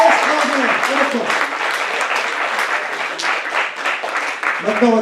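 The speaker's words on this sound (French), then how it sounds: "on vous applaudit" A live audience at an evening event against homophobia claps steadily and densely throughout, a sustained wash of applause with a few voices audible over it.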